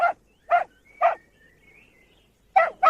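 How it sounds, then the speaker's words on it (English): A dog named Buster barks in short, sharp, close bursts: three evenly spaced barks, a pause, then two more quickly together, with no other sound between. "Here, you! Call this dog off!"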